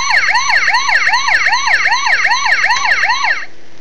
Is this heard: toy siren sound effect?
yes